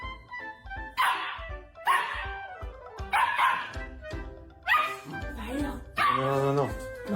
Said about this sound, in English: This dog thinks the attention could be shared a little better.